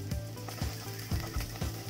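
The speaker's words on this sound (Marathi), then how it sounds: "तेलामध्ये परतून घ्यायचं।" Mustard seeds, cumin and finely chopped onion sizzle in hot oil in a Marathi home kitchen, with a steady frying hiss under several soft, regularly spaced stirring scrapes.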